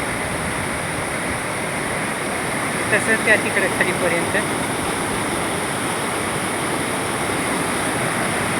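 Fast river water rushes in a loud, steady broadband roar that fills the whole stretch, and someone speaks briefly over it.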